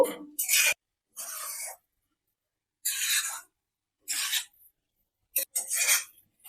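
Spiced prawn gravy is stirred in a pan in short, separate bursts of close scraping and sizzling, each lasting under a second and divided by silence, with no voices.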